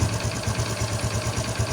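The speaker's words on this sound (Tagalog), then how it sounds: "So normal na normal yung andar na ng makina." A Honda XRM125 fuel-injected motorcycle engine idles close by with a steady, even low putter of regular firing pulses, alone and unbroken.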